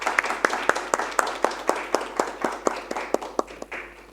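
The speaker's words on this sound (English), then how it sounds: "Please join me all in welcoming the panelists with a warm round of applause." A small audience at a climate enterprise panel claps in a sparse, distinct rhythm, individual hand claps standing out close and sharp rather than merging into a wash.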